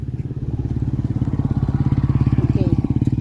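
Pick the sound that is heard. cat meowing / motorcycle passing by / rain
motorcycle passing by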